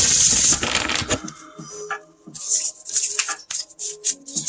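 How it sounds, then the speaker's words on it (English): Tarot cards being shuffled by hand: a burst of dense riffling at the start, then lighter intermittent card slaps and shuffling taps at close range. "I'm going to shuffle again"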